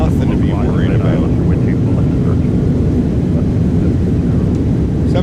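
An iniBuilds A300F freighter slows on the runway in a flight simulator with its thrust reversers deployed, giving a loud, steady, broad engine roar that stays even throughout, with a brief voice near the start.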